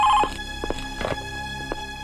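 Telephone ringing in an office scene, a bright electronic tone heard in one clear burst at the start, followed by several soft thumps and handling noises as the phone is picked up.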